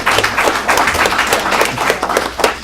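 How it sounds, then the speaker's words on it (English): An audience claps steadily in a dense, sustained round of applause, with no voices over it. "I think we should give them a round of applause."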